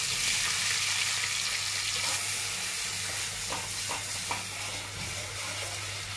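Steady hissing sizzle of sliced onions frying crisp in hot oil, continuous and close, with a few faint scrapes partway through.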